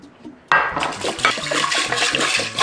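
Red beans are rinsed clean in water in a kitchen, a sudden loud rush of splashing and swishing water starting after a brief quiet moment and continuing close up, with no talking.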